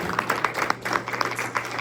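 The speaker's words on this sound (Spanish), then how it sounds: "Así es que un aplauso al que vive en reina de toda la gloria." A church congregation in Hesperia, California claps together in a brisk, irregular rhythm, with a low electrical hum running steadily underneath.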